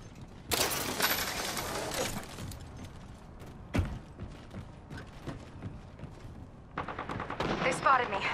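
Rapid bursts of gunfire in the battle royale shooter Apex Legends, played as Gibraltar: loud, clattering volleys at the start and again near the end, with scattered single shots and mechanical clicks in between.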